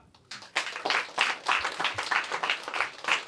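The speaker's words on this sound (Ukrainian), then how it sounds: "Це перша оплески вам." A stand-up comedy audience in Lviv breaks into applause after a quiet start, with loose bursts of clapping from a small crowd that rise and fall in uneven waves, fairly close and without talk.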